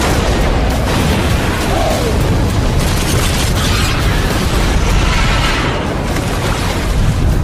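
A torpedo explodes at sea in a World War II submarine war film, a loud, sustained, roaring boom of broadband rumble that fills the whole stretch without fading, with no voices.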